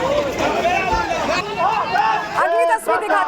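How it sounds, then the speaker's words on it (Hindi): A rowdy mob during a Waqf protest in Birbhum, a loud, shifting babble of many voices with a shouting voice rising above the crowd, close and continuous. "भीड़ पूरा हो, हंगामा करते हुए पूरे रास्ते पर जा रही है"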